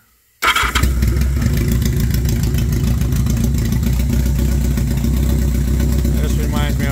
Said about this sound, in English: this is with no baffle at all, straight all the way through. This is more the sound I was going for.